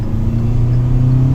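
A Kia Sonet accelerating at full throttle on a highway, a loud steady low engine drone with road rumble heard from inside the cabin, with no change over the short span.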